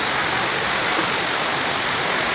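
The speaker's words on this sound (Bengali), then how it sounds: "অনেক জোরে বৃষ্টি পড়া শুরু হয়েছে, অনেক জোরে বৃষ্টি পড়তেছে" Heavy rain pours onto leaves during a violent Kalbaishakhi storm, a dense, steady hiss of close, loud downpour with no break and no voices.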